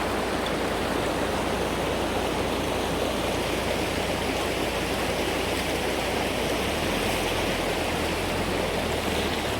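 Çat creek in Dersim flows in a steady, full rush of water, a continuous broadband wash close by with no breaks, joined near the end by a low rumble.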